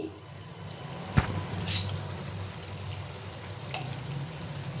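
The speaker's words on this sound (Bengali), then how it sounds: "এবার আমি এর মধ্যে দিয়ে দেবো অল্প ঘি" Ghee added to chicken stomach and potatoes in a frying pan, a soft steady sizzle close by with a couple of sharp clinks from a utensil against the pan.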